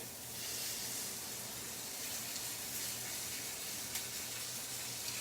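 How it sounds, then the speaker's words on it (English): Steady, dense sizzling hiss of food frying in a hot cast iron skillet, continuous and fairly close, with no talking. "now you can see there is a nice, beautiful sizzle"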